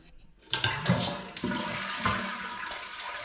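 A toilet flushes as the tank is drained during a fill valve repair, a loud rushing swirl of water that starts abruptly and keeps gurgling steadily close by, with no talking.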